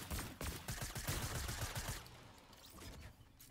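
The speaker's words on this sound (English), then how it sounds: "They're still shooting at us, by the way." Enemy gunfire in Fortnite, a quick string of sharp shots for about two seconds, then a fainter rustling tail as the firing stops.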